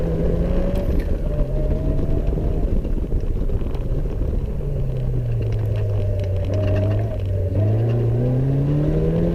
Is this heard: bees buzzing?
no